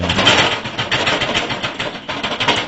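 Dense, steady mechanical clatter of grill grate factory machinery running continuously, with a rapid rhythmic chatter and no voices.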